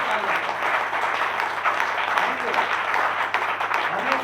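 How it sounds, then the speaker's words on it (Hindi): A seminar crowd claps steadily and loudly in a hotel hall, and a voice can be heard under the dense, continuous applause. "हर बार एक जैसी तालियां।"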